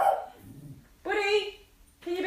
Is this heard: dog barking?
yes